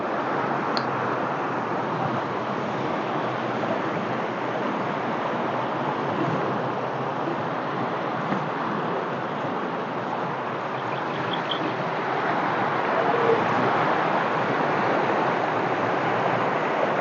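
Strong current of a river rushing steadily, a dense, continuous wash of water noise at an even loudness throughout, with no voices.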